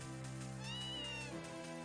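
A cat meowing in the farming game Harvest Moon: A Wonderful Life, one drawn-out tonal meow over a steady bed of game music, no talking.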